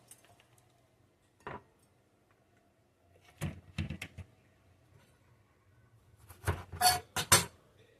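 A knife cuts the flesh off green pepper tops, giving a few sparse, sharp clicks and taps against a cutting surface, clustered in quick bursts with quiet gaps between.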